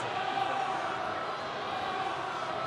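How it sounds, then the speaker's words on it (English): A capacity crowd at Virgin Media Park in Cork roars during a Munster v Edinburgh rugby match, a dense, continuous wash of massed voices from the stands that holds steady and loud throughout. "You can hear the capacity crowd at Virgin Media Park trying to get behind this Munster side and lift them."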